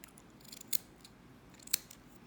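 Two crisp scissor snips trimming cotton wick for a Vandy Vape Kensei 24 RTA, close and distinct about a second apart against a quiet room.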